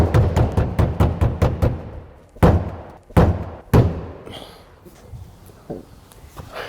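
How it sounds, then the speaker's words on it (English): Hollow metallic thunks of someone tapping on the fuel tank of a VW Golf GTI rally car to check its in-tank fuel pump: a quick run of eight even knocks, then a few heavier, spaced thumps, close and loud. "That's what you call diagnostic tapping."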